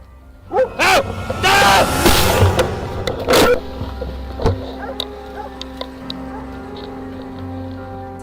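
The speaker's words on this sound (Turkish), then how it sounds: "Geyik sendeleyerek uzaklaşıyor ve köpek yeniden onu kovalamaya başlıyor." A dog chasing a deer outdoors, several loud barks in the opening seconds followed by a sharp bang and fainter sounds trailing off.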